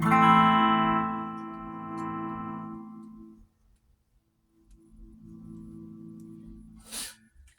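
An electric guitar chord rings out through effects, sustaining and slowly fading, then a quieter chord swells back in, followed by a brief scratchy noise.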